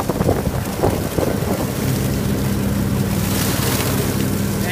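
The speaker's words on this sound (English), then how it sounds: "It would be nice if the wind would stop. It wouldn't be that damn bad, but you got that wind going on." Strong cold north wind blowing outdoors during leaf clean-up, a constant loud roaring rush with gusty buffeting, with a low engine drone underneath and a voice briefly at the start.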